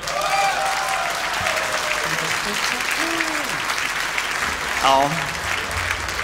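A concert audience at a live show applauds an electric guitar, a Höfner Fasan, with dense, steady clapping throughout. Someone speaks over it, and brief tonal and instrument sounds come through.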